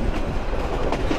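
Chattogram University shuttle train rolling along the track through a left-hand turn at a junction, with a steady loud rumble and rhythmic clickety-clack of wagon wheels throughout.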